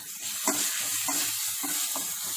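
Chopped garlic, ginger, green chilli and curry leaves sizzle in hot oil left from frying, with a steady crackle and a few soft stirring scrapes close by.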